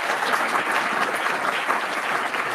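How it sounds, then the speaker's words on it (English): A conference audience at a flight software workshop gives Chris a round of applause, dense, even clapping from many people at steady volume with no talking over it. "So a round of applause for Chris."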